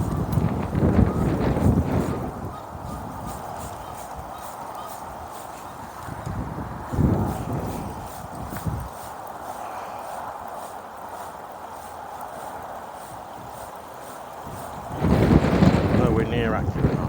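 Steady crosswind buffeting the microphone at a big fishing pit, a continuous rushing roar with louder gusts near the start, around seven seconds and again at the end.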